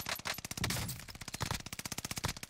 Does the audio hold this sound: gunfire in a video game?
yes